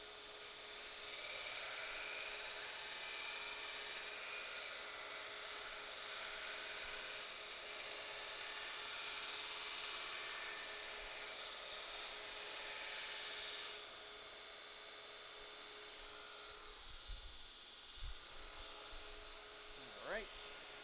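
A fresh 36-grit belt grinds the bevel of a knife blade, making a steady, loud abrasive hiss that runs without a break through the clip and thins slightly near the end.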